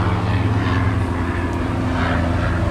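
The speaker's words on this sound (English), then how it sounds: "You can hear a helicopter and all kind of trucks and all kind of stuff going by in the background." A loud, continuous helicopter rotor drone fills the air overhead in Saudi Arabia, steady throughout with no speech.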